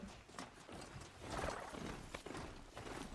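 Horse hooves clip-clopping in the video game Horizon Zero Dawn, a quick uneven trot of hoof strikes with a short whinny partway through, close and fairly quiet.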